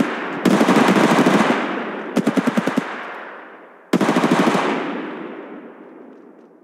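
Machine gun fire from Apex Legends Mobile plays as loud, close full-auto bursts: one long stream, then a short choppy burst, then another long stream, each trailing into a fading echo, with no voices.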